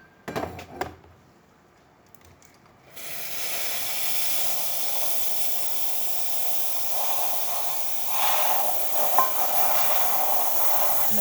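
La Pavoni Professional espresso machine steam wand, freshly serviced, opening after a few clicks into a steady loud hiss that runs on continuously, swelling a little in intensity near the end.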